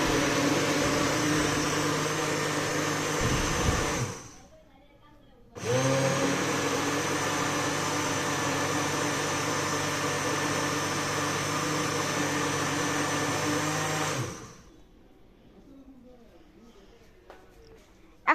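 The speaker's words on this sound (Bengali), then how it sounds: "তো আবার ব্লেন্ডার করতে হবে।" A kitchen blender whirs steadily while mixing caramel pudding batter, stopping briefly for a pause before running again for about ten seconds, then cutting off to quiet room tone.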